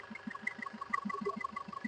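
A 2016 Maruti Suzuki Vitara Brezza ZDi diesel engine idles with a quick, even knocking pulse, steady and close, with no talk over it.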